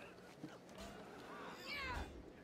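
A cat in World of Warcraft meows in a few short, fairly faint cries over a low hum of game ambience, with someone talking.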